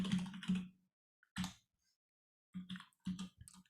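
Typing on a computer keyboard during a plotting lesson: a few short bursts of key clicks separated by pauses, close and fairly quiet, with no talk.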